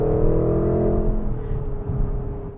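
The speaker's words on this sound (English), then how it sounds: "there's a lot more accents of burble tunes back there when you let off the throttle" A 2021 Porsche Cayenne GTS Coupé's engine drones loudly at close range, its tone sliding down as the throttle eases, with a rough burbling exhaust underneath.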